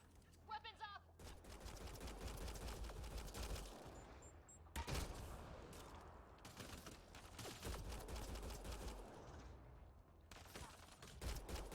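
Sustained gunfire in a firefight in Mass Effect: Andromeda, dense rapid bursts continuing for several seconds with a brief pause, with voices speaking among the shots.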